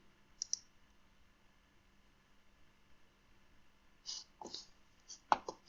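In the Canva editor, a computer mouse gives a couple of faint clicks, then a short cluster of clicks and a sharper one near the end, over a quiet background.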